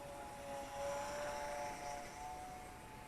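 A small Eachine Mini P47 RC model airplane with a 500mm wingspan and gyro flies at a distance, its electric motor giving a faint, steady whine that rises and falls slightly as it passes.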